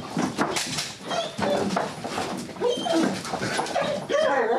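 A K9 police dog indoors during a bite test, whining, whimpering and yipping in quick excited bursts, close and loud, with little pause between sounds.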